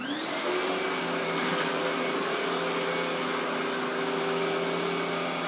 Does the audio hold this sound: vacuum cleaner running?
yes